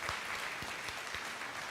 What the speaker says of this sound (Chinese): 我们为他们鼓掌一下，感谢主哈